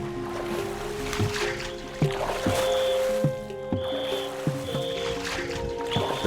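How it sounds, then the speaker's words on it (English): A boat motor hums steadily as the boat moves down a river in China, with water sloshing and splashing around the hull, plus occasional knocks and a few faint high beeps. "The boat is making its way down the river."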